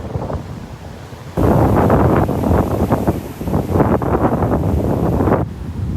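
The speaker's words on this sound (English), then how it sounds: "I can't believe the difference in the wind up here from Vanderbilt Beach." Strong wind at a beach buffets the microphone in loud, rumbling gusts over a background of surf. The gusts rise sharply partway through and ease near the end, with no speech.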